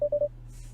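A phone dials with three quick, evenly spaced touch-tone beeps, clear and close, followed by quiet.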